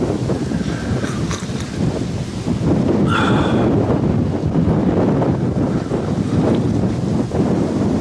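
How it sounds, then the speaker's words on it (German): Strong stormy wind roars and buffets the microphone continuously outdoors, a loud broadband rumble with gusts, with no voices. "Mein lieber Mann, ist das windig."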